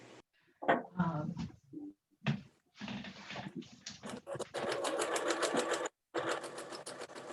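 A home sewing machine stitches a paper-pieced quilt block in short starts and stops, then runs in a longer steady whir, close and moderately loud, with brief clicks and handling noises between runs.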